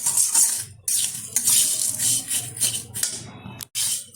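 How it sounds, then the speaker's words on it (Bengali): Vermicelli and sugar stirred continuously in a pan over medium-low heat, giving close, bright metallic scraping and rattling strokes that come in quick bursts with short pauses between them. "চিনি দেওয়ার পর কিন্তু অনবরত নাড়িয়ে যেতে হবে"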